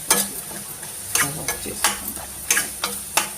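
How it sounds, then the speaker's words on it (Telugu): Spices frying in hot oil for a bitter gourd pickle, a constant crackling sizzle broken by repeated sharp spoon scrapes against the pan at an uneven rhythm, close and fairly loud. "ఆ నూనె వేడికి ఫ్రై అవుతాయి అనమాట"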